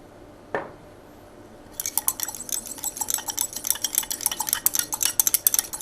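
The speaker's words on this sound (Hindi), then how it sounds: "We will add little bit more water." Water is added to salt in glassware, a quick splash followed by a steady stream of crisp, rapid trickling and tinkling drips, close and fairly loud.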